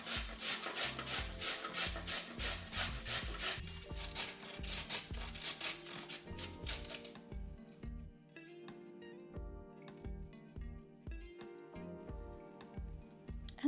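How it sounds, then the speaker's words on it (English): Carrots are grated by hand for a stuffed bell pepper filling of meat and rice, giving close, regular rasping strokes in a steady back-and-forth rhythm, alone and fairly quiet. "I will also grate and add carrots to the filling to have a bit more vegetables in it"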